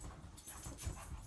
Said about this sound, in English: my dog is having a running attack right now